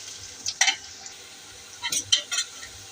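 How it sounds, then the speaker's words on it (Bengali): Green chilies and onion fry in a hot pan for an egg white curry, with brief bursts of sizzle and stirring scrapes separated by quiet stretches, close and fairly soft. "এখন কাঁচামরিচটা দিয়ে দিলাম। কাঁচামরিচ একটু ভেজে তারপর একটু বাকি উপকরণটা পরে দিয়ে দিব।"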